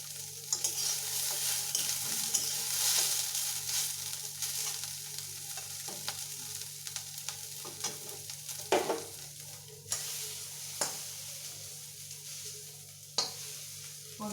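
Okra for kadhi curry fries in a pan with a constant sizzle, while a utensil stirs it in repeated scraping strokes and sharp clanks, close and clear with no talking.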